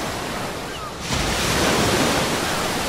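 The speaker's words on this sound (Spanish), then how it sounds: "Olas en el mar. Fijaros, así es como suenan en la Tierra." Ocean waves on Earth, a broad roaring wash of surf that swells louder about a second in and holds steady, close and continuous with no voices.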